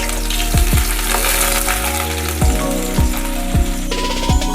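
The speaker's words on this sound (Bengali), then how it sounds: "তেল গরম হয়ে গেলে এবার আমরা এতে দিয়ে দেবো কুচিয়ে রাখা পেঁয়াজ" Chopped onions frying in hot oil for chicken angara, a loud, close, continuous sizzle broken by repeated clanks and scrapes of a spatula stirring in the pan, with no speech.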